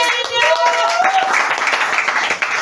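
A church congregation claps and applauds during a worship service, a dense, steady patter of many hands with voices and cheers mixed in, close and loud throughout.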